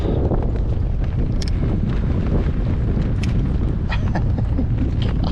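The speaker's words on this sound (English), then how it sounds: "God, this wind is unbelievable." Strong wind batters a kayak out on a lake during December trout fishing. It makes a loud, continuous roaring rumble against the microphone for the whole stretch, with a few faint creaks and knocks from the boat underneath and no talking.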